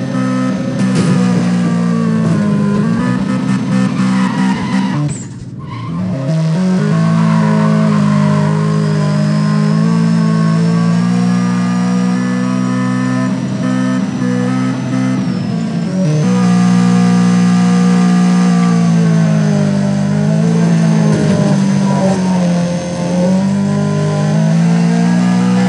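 Car engine in Need for Speed ProStreet drift mode, a Corolla or Infiniti, drones loud and steady at high revs. The pitch rises and falls, with one brief dip in the middle.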